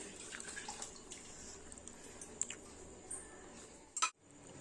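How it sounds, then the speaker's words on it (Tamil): Water poured into a cooking pot for chicken biryani rice, a steady splashing stream running for about four seconds before a brief clink as it stops. "அதுக்கு 3 கப்பு தண்ணி ஊத்திக்கிறேன்."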